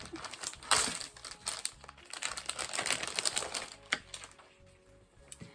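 Packaging for an Artemio craft kit is torn open and handled, giving rapid crinkling and rustling of plastic and paper. It runs in dense, close bursts for several seconds, then fades to a few soft rustles near the end.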